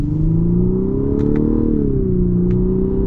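A 2021 Lexus LS 500 F Sport in Sport Plus and manual mode accelerates with a loud, smooth engine drone whose pitch rises then settles, heard close from inside the cabin with no talking.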